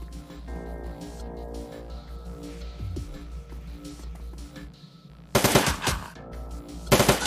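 Gunfire in the video game Shadowrun: Dragonfall, with rapid automatic bursts erupting loudly after a stretch of low droning background ambience, then a second burst near the end.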